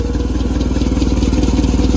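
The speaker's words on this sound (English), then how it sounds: "this Continental engine, this four-cylinder" A Clark forklift's Continental four-cylinder engine runs close and loud, a steady pulsing chug with clattery mechanical texture and no voices over it.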